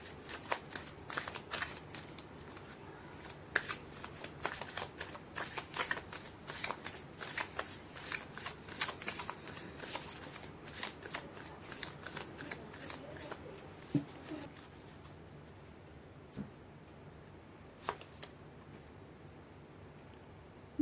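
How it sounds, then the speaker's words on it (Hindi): Tarot cards being shuffled by hand give a steady run of quick, soft riffling and flicking taps, close and fairly faint, trailing off into sparser taps toward the end. "कर लेती हूँ कार्ड की शफलिंग।"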